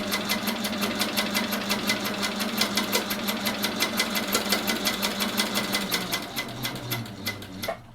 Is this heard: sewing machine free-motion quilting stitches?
yes